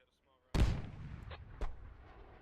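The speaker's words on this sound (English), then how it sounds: "And the artillery here is starting to come in now." Artillery fire in the video game Squad: a sudden heavy boom lands near and loud, rumbling on as a sharp second blast cracks through a second later, with fainter pops between and a low background bed.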